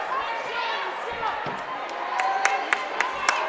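A high school boys basketball crowd at South Side reacts during a free throw in an IHSAA game between Wayne and South Side, a dense gym roar with sharp claps and bangs punctuating the later seconds.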